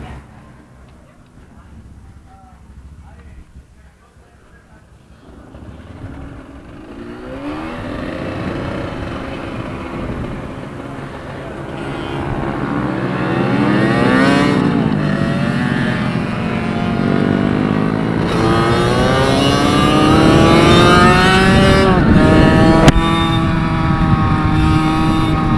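A racing minibike engine starts from near silence, then revs rise and fall in repeated sweeps as the bike gets under way, growing louder and steadier into a sustained buzzing whine, with faint voices early on.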